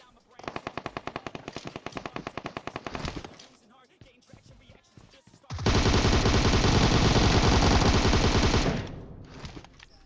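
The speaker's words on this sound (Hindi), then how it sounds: "आगे गोलियां भी चल रही होती है" Automatic gunfire in PUBG Mobile: a rapid burst of shots for about three seconds, a short pause, then a long, loud, sustained stream of fire and a final brief burst, close and dominant.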